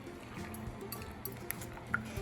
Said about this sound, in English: we're gonna pour eggs into the pan